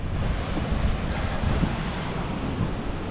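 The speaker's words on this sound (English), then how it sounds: "That little waterfall thing we saw a minute ago is there. It comes charging into the river" Small waterfall charging into a river along the West Highland Way near Kinlochleven, heard as a steady broadband rush of water mixed with wind buffeting the microphone, with no voices.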